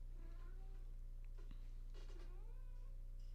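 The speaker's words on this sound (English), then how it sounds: "I need to feed my cat really quick. I'm sure all of you can hear her." A pet cat meows for food indoors, several short, faint cries with pauses between them, heard over a steady low hum with no talk.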